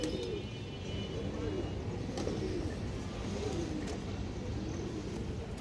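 Pigeons at a farm cooing in repeated soft throaty phrases, fairly close, over a steady background murmur with faint traffic-like noise.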